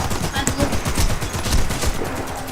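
Rapid gunfire from the shooter video game Warface crackles in dense bursts, loud and continuous throughout, with a voice occasionally calling out over the shots.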